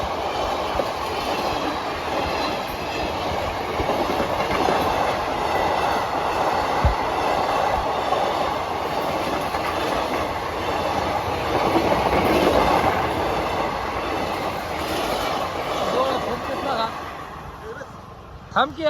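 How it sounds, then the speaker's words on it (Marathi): A train rolls past a railway crossing at close range, its steady loud rumble and clattering wheels filling the whole stretch before easing slightly at the end, with people talking over it. "हे बघा रेल्वे पण आली."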